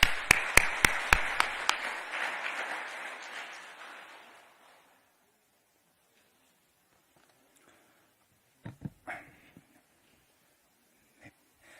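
An audience welcomes a speaker to give a religious testimony with applause. A few sharp, separate claps open into a broad round that fades out over about four seconds. Near silence follows, broken by a couple of faint knocks and rustles.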